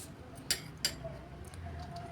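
A knife slitting green chillies lengthwise for a spicy side dish, heard as two faint, crisp knife clicks on a board in quick succession over a quiet room hum.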